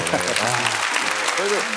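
Studio audience at a KBS television show breaking into brief applause, a dense burst of clapping with voices mixed in, lasting under two seconds.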